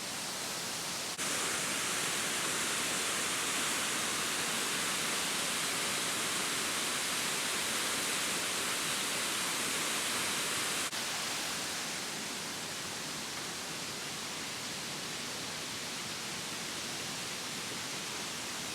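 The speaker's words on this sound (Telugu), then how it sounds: "Water fall super." A waterfall at Doi Inthanon in Thailand roars as a steady, dense rush of water, loud and unbroken throughout, with no talk over it.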